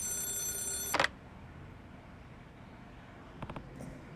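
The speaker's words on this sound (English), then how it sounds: "Could you get the phone?" A telephone rings in the video game Yakuza 0: one short, bright electronic ring lasting about a second that ends with a click, followed by quiet room tone and a few faint soft knocks.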